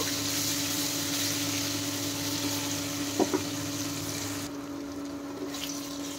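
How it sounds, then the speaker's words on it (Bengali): Steady, soft sizzling of paneer frying in hot oil until browned, with a couple of brief clinks midway before the hiss quiets somewhat. "নেড়ে চেড়ে লাল লাল করে পনিরগুলো আমি ভেজে নেব।"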